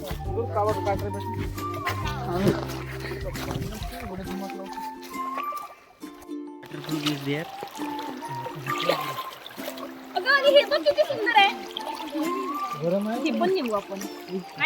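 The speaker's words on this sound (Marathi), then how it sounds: "मित्रांनो या प्रकारे मस्त पाणी वाहत आहे उन्हाळा असून" Water trickles and splashes in a stream near the Parsawada waterfall during summer, a light running flow that continues beneath voices talking and other sounds for most of the clip.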